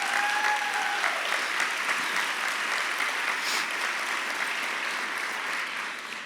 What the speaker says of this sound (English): I know you parents want to applaud,